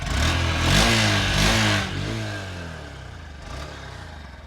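Honda SP 125 2025 OBD 2B motorcycle with a 125cc engine revving up in two quick blips, then settling back to a steady idle, close and loud with no voices.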